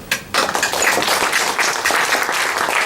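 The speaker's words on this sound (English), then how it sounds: "I want you all to join me in a round of applause." A crowd applauds at a community meeting, a brief burst after a short quieter start, then sustained, dense clapping that stays loud and steady throughout with no talk.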